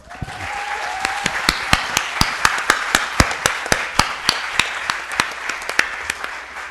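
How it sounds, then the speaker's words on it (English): An audience at a federal election debate claps steadily for the candidates, individual claps standing out in a brisk rhythm that gradually thins toward the end. "Can I get a round of applause for our candidates, please?"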